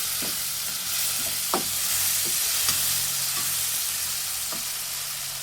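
Spice paste sizzles and fries in a hot pan for egg rice made with leftover pulao, with a steady crackle and several sharp spatula scrapes and stirs against the pan, loud and close, with no voices.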